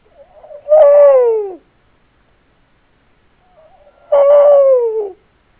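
Two long, loud owl-like hoots made by a human voice imitating an owl call, each falling in pitch and separated by a few seconds of silence.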